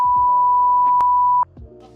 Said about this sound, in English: I'll do a beep.